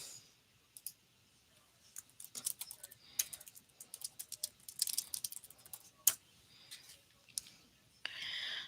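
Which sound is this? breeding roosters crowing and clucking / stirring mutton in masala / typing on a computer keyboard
typing on a computer keyboard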